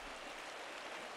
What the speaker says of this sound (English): The waterfall is always so beautiful.